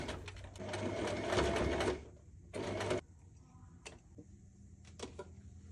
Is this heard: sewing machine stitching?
yes